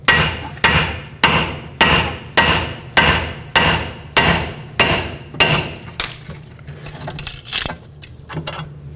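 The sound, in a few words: hammer striking steering knuckle to pop ball joint free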